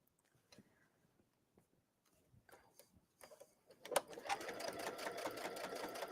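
A Brother sewing machine stitches along the edge of a fabric insert for a basket. A few faint ticks and clicks come first, then a steady, fairly quiet mechanical whirr of stitching starts partway through and carries on to the end.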